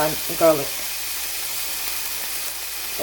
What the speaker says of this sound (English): So as you see it sizzle